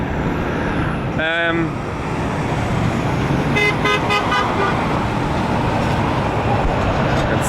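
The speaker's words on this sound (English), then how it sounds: "This was the first person honking here." Car horn honking in street traffic on a walk through a Phoenix neighborhood, a brief toot under steady loud traffic roar, then a few more faint horn beeps further off.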